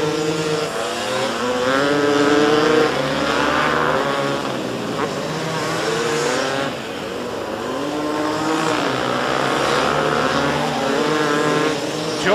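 Vintage racing motorcycles roar around a dirt track, their engines rising and falling loudly as they pass close by, while a race announcer talks over the noise.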